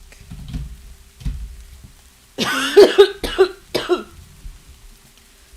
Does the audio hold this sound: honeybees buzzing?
no